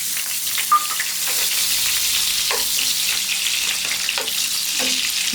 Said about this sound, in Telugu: దీని తర్వాత కొంచెం బటర్ పెట్టుకున్నాం కదా, బటర్ వేస్తాను.